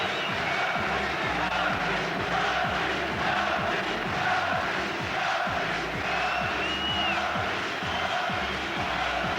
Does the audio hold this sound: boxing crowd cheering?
yes